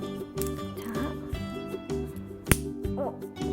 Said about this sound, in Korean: 딱 소리가 나면서 짜잔 들어갔어요